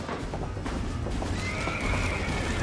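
Frightened horses neigh and whinny during a barn fire, their cries close and loud over a dense rumble with hooves clattering, all without a break.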